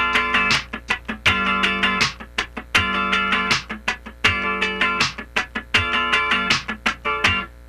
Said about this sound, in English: Let's start by just playing 4 sixteenths in a row like this.